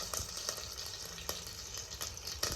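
Mustard seeds splutter and pop in hot oil on a home stove, a faint steady sizzle broken by scattered sharp crackles close by.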